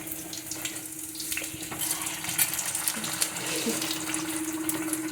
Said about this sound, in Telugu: ఇలా వేసుకున్న బూరెలని బాగా కలుపుకొని ఫ్రై చేసుకోవాలి.